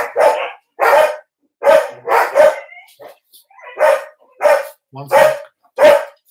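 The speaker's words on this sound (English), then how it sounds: "6 dogs here, and they're all going mad" Six dogs barking loudly and close in a house, about ten sharp barks in irregular bursts, with a brief spoken phrase between them.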